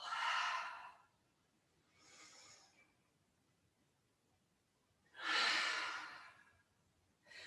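Slow, audible exhalations during a gentle yoga flow: three long airy breaths, the first and last strong and near, a softer one between, with quiet gaps.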